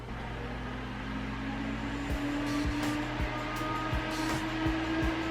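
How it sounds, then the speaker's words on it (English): The fan of an Alienware Aurora R13 gaming PC runs with a steady airy whoosh and a faint tonal hum, joined partway through by a series of soft rhythmic clicks; it is quiet and close, with no talking. "look how good this fan is blowing"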